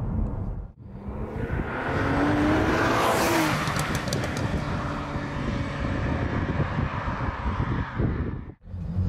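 A BMW Z4 Coupe 3.0si's N52 straight-six revs up and holds a loud, steady drone for most of the stretch, briefly dipping near the start and end, with no talking over it.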